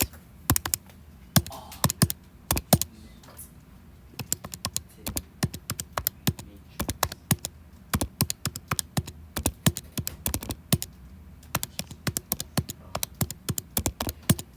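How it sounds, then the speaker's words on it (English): Rapid clicks of numbers being keyed into a calculator while working a matrix problem in an algebra class, sharp taps in fast uneven bursts with short pauses, close and fairly clear. "you're gonna go to your calculator and type in this matrix"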